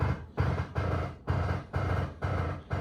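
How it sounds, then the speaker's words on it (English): A repeating mechanical groan from a Scion FR-S drift car's e-brake pulses in regular bursts about every half second, close and grating, with no voices. "Don't mind that, that's just the e-brake."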